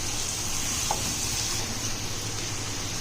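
Chicken pieces with potatoes and red chillies are stir-fried for degi biryani, making a continuous, even hiss over a low steady hum, moderately loud and without talk.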